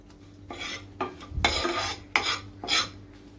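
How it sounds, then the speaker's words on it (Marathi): Flour being roasted in butter over a low flame for a white sauce, with a spoon scraping and clinking against the pan in irregular bursts. There is only faint sizzling underneath, and no voices. "दोन मिनटं चांगलं भाजून घ्या. मैद्याचा कच्चेपणा सगळा निघून गेला पाहिजे."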